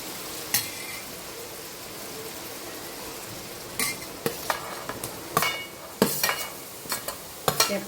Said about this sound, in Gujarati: એમાં આપણે આ બધું ધીમા ગેસે સોતે કરી લઈશું.